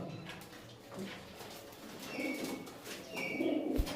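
Pigeons coo softly inside a pigeon loft of homer and tail-marked breeds, low throaty calls repeating through the clip with a faint rustle of birds nearby, no voices.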